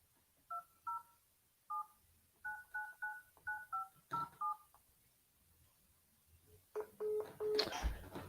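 Touch-tone telephone keypad dialing during a real estate wholesaling cold call: a run of about a dozen short, clear DTMF beeps in uneven groups, followed by a rising ringback or connection tone with some background noise.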